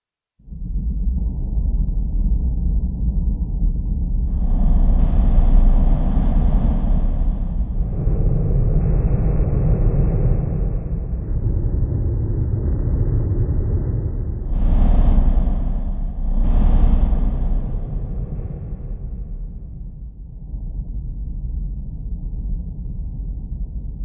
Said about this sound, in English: That's the sound of hell right there